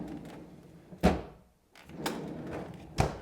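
Freezer drawers in a compact 500-square-foot prefab home slide shut with a few solid thunks, a sharp knock near the start and another at the end, with quieter rumbling handling noise between.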